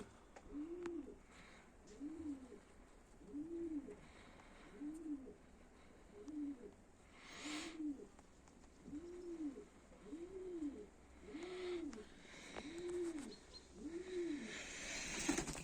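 Pigeons coo while bathing, giving about a dozen soft, evenly spaced cooing calls at a steady rhythm, with occasional faint splashes and flutters near the end.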